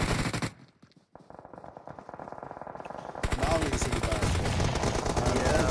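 Rapid machine-gun bursts in an esports video game match, dense rattling fire that cuts out briefly, then returns louder and continuous, heavy and near.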